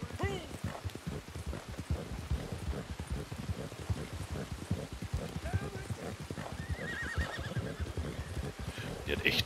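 Rapid, steady hoofbeats of a galloping horse in Red Dead Redemption 2 Online with an occasional whinny, under a constant rain-like hiss of background noise.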